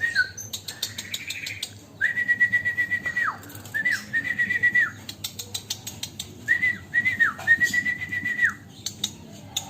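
Birds sing loudly and close by, repeated sustained whistled phrases with chirps and trills in bursts over a steady outdoor background, with no talk.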